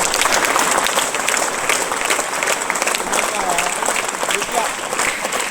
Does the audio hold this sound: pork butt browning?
no